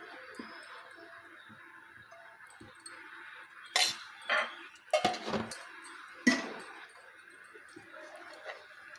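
A metal pan or kadai set on a home stove before cooking carrot rice, giving a few light clinks and knocks with soft scraping in a quiet kitchen, no talking.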